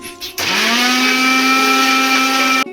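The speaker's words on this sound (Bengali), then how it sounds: "এটা মিক্সিতে ঘুরিয়ে লিকুইড বানিয়ে নেব।" An electric mixer grinder blends raw mango pieces with a little water into liquid, a loud steady whirring roar that kicks in after a short start and runs for a couple of seconds at close range.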